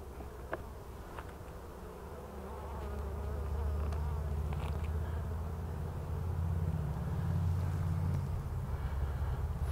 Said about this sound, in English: Full of bees